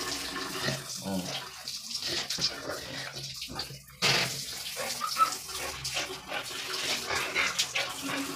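Water running from a tap while a dog is bathed, splashing and trickling in uneven bursts with a sharp gush partway through, fairly quiet and close, with faint movement around it.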